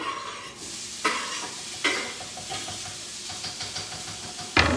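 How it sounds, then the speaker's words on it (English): Peppers sizzling in a skillet, a steady hiss of frying with a few sharp clanks and stirring scrapes close by, no voices. "I'm going to put these peppers over here in the skillet."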